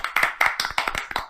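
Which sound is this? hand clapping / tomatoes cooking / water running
hand clapping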